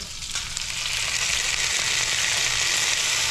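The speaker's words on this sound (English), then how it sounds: "Just let it sit there and simmer." Minced garlic simmers in coconut oil in a pan, a steady, loud, close sizzle that holds throughout with no pauses and no talking.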